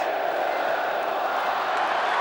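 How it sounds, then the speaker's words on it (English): A stadium crowd roars at Lang Park as the 1993 State of Origin rugby league series ends, a continuous loud, broad wash of cheering with no breaks. "There goes the roar from the crowd."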